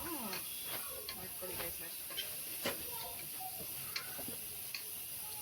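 Liver frying with ginger garlic paste and onion in a pan gives a steady, close hiss with scattered ticks and pops throughout.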